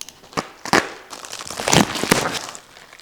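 A bubble mailer package being handled and opened, giving close, crinkly plastic crackles and crumpling rustles in irregular bursts over about three seconds, with no talking.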